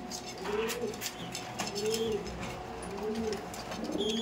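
Racing pigeons in a loft cooing in repeated soft, rolling coos at a steady rhythm, close and fairly quiet, with faint background noise and a few short chirps.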